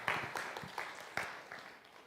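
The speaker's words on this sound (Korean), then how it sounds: "우리 고성재 목사님 박수로 한번 모시도록 하겠습니다." Applause from a church audience welcoming a pastor on stage at a book concert. The clapping is moderate and steady, with a few sharper bursts, and it fades gradually over about two seconds.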